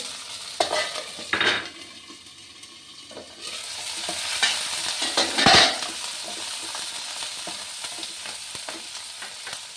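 Whole mint leaves frying in a pan for khara bath, with a soft continuous sizzle under repeated scraping stirs of a utensil against the metal pan, close and without speech.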